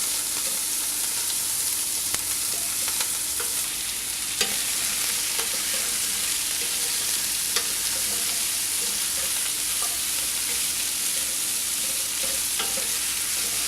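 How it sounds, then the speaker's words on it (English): Cut vegetables being stirred and mixed together in a cooking pot for couscous, a steady sizzling, scraping bustle close by with occasional sharper clinks, continuous for the whole stretch with no talk. "To that, we're going to add the vegetables that we already cut, except the cabbage. We're going to mix all of it together."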